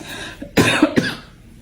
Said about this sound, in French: vraiment une toux qui m'embête depuis des semaines.